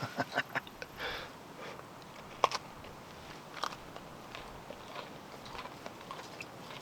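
Crunchy bites of wood-fired pizza and close chewing, quiet and up close, with a few sharper crackles among soft mouth sounds.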